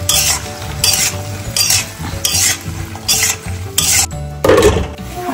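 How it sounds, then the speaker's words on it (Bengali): Nigella seeds and dried red chillies crackle and sizzle in hot mustard oil, with rhythmic scraping strokes of a spatula against the pan repeating about once a second. "এইদিকে একটুখানি সর্ষের তেলের মধ্যে কালো জিরা আর শুকনো লঙ্কা ফোড়ন দেব"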